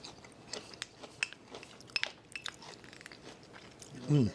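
Crunchy bites and wet chewing of home-fermented pickled corn after fourteen days in a crock, a series of close, quiet crunches and smacks, ending with a short vocal sound.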